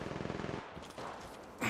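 In Apex Legends Mobile, an enemy's automatic weapon fires a quick, faint rattling burst, followed by softer scattered shots and a final louder bang.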